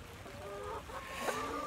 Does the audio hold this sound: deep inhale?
no